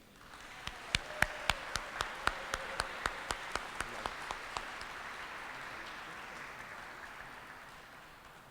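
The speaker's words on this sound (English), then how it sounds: "Everyone, please give a warm round of applause to Amanda Colon Smith." An audience at a Hispanic Heritage Month event gives a warm round of applause, with a few sharp nearby claps standing out over a softer, steady crowd clapping that slowly fades.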